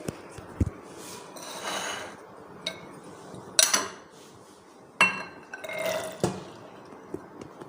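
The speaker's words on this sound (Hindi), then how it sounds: "सबसे पहले बाउल में हम चने डालेंगे।" Cooked chickpeas are tipped into a bowl for chana chaat, giving scattered soft clinks, taps and light clatter of utensil against dish, with brief rustling bursts between quiet gaps.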